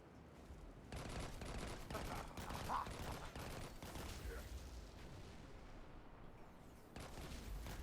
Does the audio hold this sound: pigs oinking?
no